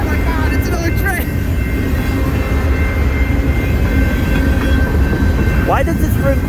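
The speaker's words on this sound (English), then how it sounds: "oh my God, it's another train." A CN freight train rolls past steadily in the snow in Battle Creek, Michigan, a loud continuous rumble with wheel clatter and a brief squeal near the end, as a person talks over the noise.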